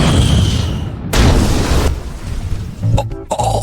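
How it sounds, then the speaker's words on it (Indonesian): A heavy anime cannon blasts in a loud, booming burst followed by a rumbling tail and a second sharper crack near the end, with no one speaking. "Laurot sampai terhempas karena kerasnya sentakan meriam itu"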